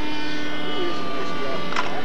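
Two scale model F-86 jets fly at a US Scale Masters competition, giving a steady, loud turbine-like whine and roar with a slight pitch shift, heard under a commentator talking.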